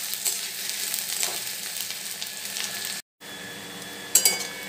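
A steady sizzle of sliced onions frying golden brown in a pan crackles, broad and continuous, with a brief dropout and a few light clinks near the end.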